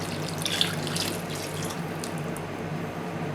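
Shan masala mixed with half a cup of water pours steadily into a pan for a Pakistani chicken karahi, making a continuous running-water splash with a low hum under it and no talking.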